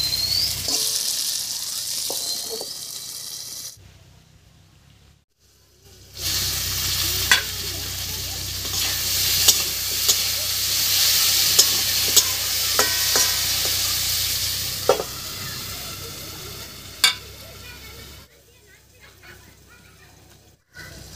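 Potatoes, onions and chui pepper frying in a covered pan give a loud, steady sizzle with occasional sharp clicks, broken by two brief quiet gaps, with a dog faintly audible in the background.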